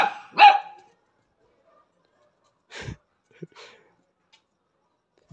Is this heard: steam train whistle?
no